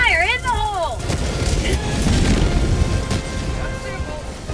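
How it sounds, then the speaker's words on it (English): A grenade blast in a Halo-style shooter game, a deep booming rumble swelling over a couple of seconds amid distant gunfire, preceded by a brief warbling electronic tone and a voice. "Throwing grenade!"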